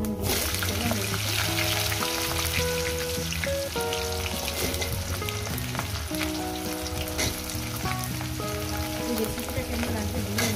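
Vegetables frying in a pan with five-spice tempering, a steady sizzle and crackle throughout, with a layer of music underneath.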